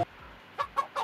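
Chicken clucks from an unlocked chicken item in Fall Guys on PS5: a faint initial cluck, then three quick, close clucks in a rising burst.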